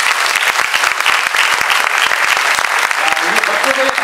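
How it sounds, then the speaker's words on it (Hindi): Loud applause for a children's Kumaoni stage play in an auditorium, dense rhythmic clapping from a crowd close by, with a voice rising briefly over it near the end. "बच्चों ने जो इतना जबरदस्त कार्यक्रम किया उसके लिए जोरदार तालियां"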